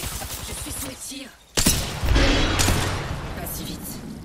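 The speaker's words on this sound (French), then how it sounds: "Je suis sous les tirs." Gunfire in a video game rings out as a sharp blast followed by a burst of rapid shots, heard under excited talking from a player.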